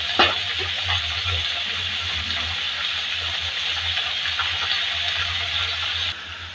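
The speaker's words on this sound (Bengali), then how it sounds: "এটার ভিতরে আবার কপিগুলো ছেড়ে দিচ্ছি। কপি একটু ভাজা হয়ে যায়।" Cauliflower and potatoes fry in a pan, giving a steady, close hiss and sizzle that stays even throughout, with a brief clatter at the start.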